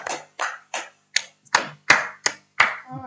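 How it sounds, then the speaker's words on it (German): A lecture audience claps in eight sharp, separate bursts, each a quick slap that fades, evenly spaced and fairly close, with no talk over it. "Ah, der Klatscher tatsächlich."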